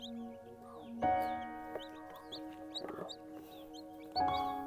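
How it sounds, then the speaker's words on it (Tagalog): Chickens cluck and squawk nearby in short bursts, with a steady hum of background noise underneath. "Ano ilay na nga mga manok, Loy?"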